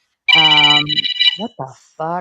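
A landline telephone rings loudly and steadily for under a second with a bright, warbling tone, then a voice speaks briefly over the ring and again once it stops.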